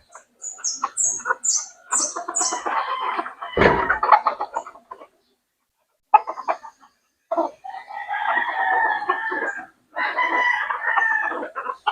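Rooster crowing and hens clucking at a backyard breeder of fighting cocks, several close crows and clucks in bursts separated by short pauses.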